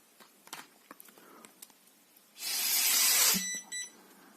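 An Alcoscan AL-8000 electrochemical breathalyzer gets a short, weak blow: faint clicks and taps first, then a brief steady breathy hiss lasting about a second and ending in a short beep.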